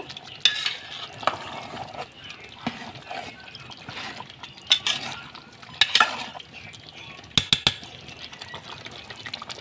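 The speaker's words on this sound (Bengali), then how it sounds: "আলু সহ আর একটু কষিয়ে নিব" Boiled potatoes being stir-fried into a curry in a pan, with a clattering spatula scraping and stirring through a soft continuous sizzle, close by and irregular, with brief sharp knocks near the end.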